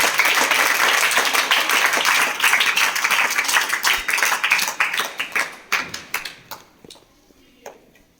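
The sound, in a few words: applause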